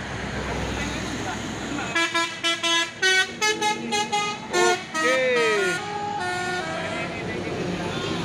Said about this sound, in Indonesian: Masuk lagi truk Tronton Pusoren 6x4.